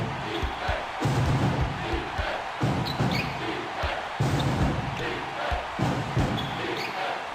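A basketball video game arena crowd (ESPN College Hoops 2K5, Xbox) roars and cheers in repeated swells, with a commentator's voice talking over the noise throughout.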